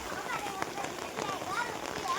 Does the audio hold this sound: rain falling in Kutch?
yes